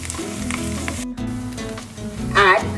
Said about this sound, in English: All this we are going to saute together.